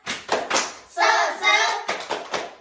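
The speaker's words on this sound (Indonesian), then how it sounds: "Tepuk semangatnya. Tepuk semangat." Children clap a quick rhythmic pattern of several claps, bright and close, with chanting voices between the bursts.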